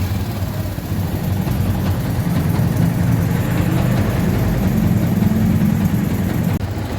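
A hot Yamaha Jupiter MX motorcycle engine idles steadily and won't shut off. It makes a close, constant low rumble with no pauses, and no one speaks over it.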